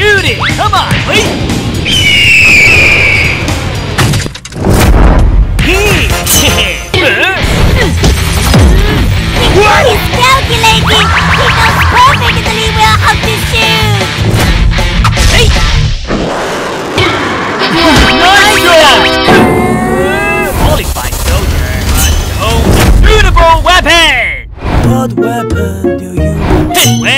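Chaotic video game combat, loud and continuous, with crashes, smashes and impact bursts layered over game music and sound effects while a voice talks throughout.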